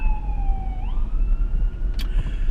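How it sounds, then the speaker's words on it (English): An ambulance siren passes by outside, a steady wailing tone that dips and then climbs again over low road rumble, with a brief sharp click near the end and no speech. "just had a ambulance going by there"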